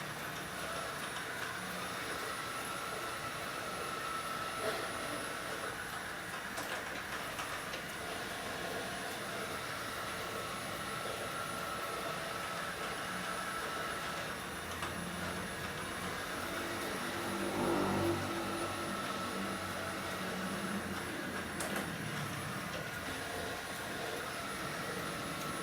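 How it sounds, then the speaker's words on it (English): A Chuwi ILIFE V7S robot vacuum runs in mopping mode, giving a steady, fairly loud motor whir with broadband hiss that holds constant throughout, with a brief swell in the middle. "this is the first time that I'm using this robot to mop"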